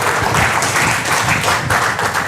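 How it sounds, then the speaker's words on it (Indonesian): Loud, close audience clapping during a product demonstration talk, a dense continuous roar of many hands lasting a couple of seconds without a break. "Wah, tepuk tangan"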